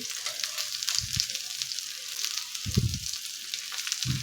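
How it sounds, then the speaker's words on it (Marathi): Stuffed okra (bhindi) sautés in a little oil, giving a steady soft sizzle broken by three low scraping thuds as it is turned in the pan, close and without talk. "अशाच पद्धतीने भेंडी आपल्याला परतून घ्यायची आहे आणि अगदी थोड्या तेलामध्ये भेंडी तयार होते"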